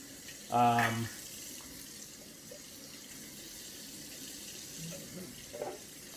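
Tap water runs into a lidded pan for cooking rice, a loud gushing burst lasting about half a second, then quieter kitchen sounds afterward.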